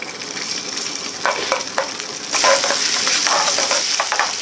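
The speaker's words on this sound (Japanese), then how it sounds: "したらまずね、ベーコンちゃん炒めていきます" Bacon frying in a tablespoon of oil in a pan: a steady hiss with crackling pops that grows louder partway through, with occasional scraping stirs, close and fairly loud.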